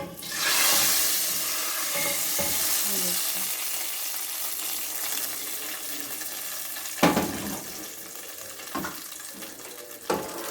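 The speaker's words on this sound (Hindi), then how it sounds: "बघार को अपने दाल पर डालेंगे।" Hot tempering poured onto dal for dhaba-style dal fry bursts into a loud hiss that slowly fades, followed by a few brief clatters of a pan or utensil.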